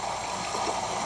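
Water drains by gravity out of a home water heater through a hose, a steady broadband rush and trickle that runs continuously at moderate level with no pauses.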